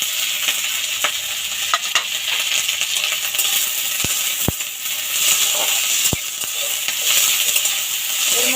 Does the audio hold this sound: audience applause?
no